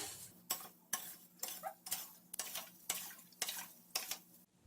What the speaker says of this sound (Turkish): Tuz iyice eriyene kadar karıştırıyorum.